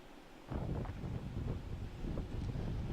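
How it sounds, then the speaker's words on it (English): Hard, gusting wind batters the microphone on a ledge during a Halloween storm, with a sudden loud roar after a quieter half second and no voices. "the wind was blowing pretty hard"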